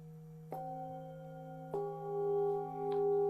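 A bowl is struck, then struck again, each strike adding a bright ringing tone that layers with the first, two pitches sustaining and gently beating.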